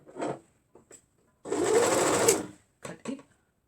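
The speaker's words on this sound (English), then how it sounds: "you make sure you're actually sewing everything up together" A sewing machine stitches short pants together in quick bursts: two brief runs, a steady whirring stretch of about a second, then a few short final stitches, close and clear.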